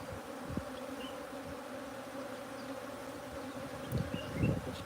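A swarm of bees hums around a hive box at a bee sanctuary, a steady near drone with single bees zipping close and brief louder bumps toward the end.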